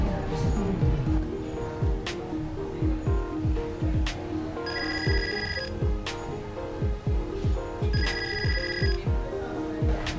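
A telephone rings in a home scene from a Filipino TV drama, loud repeated bursts of electronic ringing in a regular pattern over a background of other sounds.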